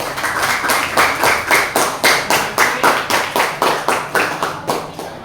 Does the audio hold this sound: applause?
yes